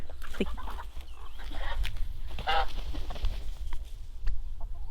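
Farmyard fowl call over steady outdoor rumble: goose honks and chicken clucks come in scattered bursts, some close, others farther off.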